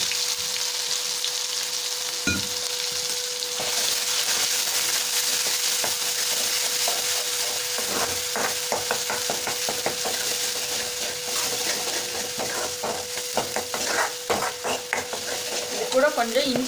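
Shallot paste spatters and hisses in hot oil with fennel seeds, a dense, continuous sizzle near at hand, broken by scraping stirs that grow busier and more clattery toward the end.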